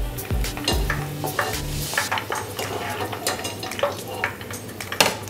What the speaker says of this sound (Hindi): अब इसी में प्याज को भी फ्राई कर लेंगे।